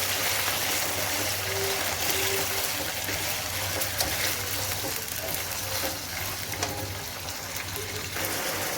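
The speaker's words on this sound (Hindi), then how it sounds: "यहाँ पे चिकन फ्राई हो रहा है" Chicken frying with garlic in a pan for a jalfarezi, giving a steady, loud sizzle and crackle throughout with occasional stirring clinks and a low background hum.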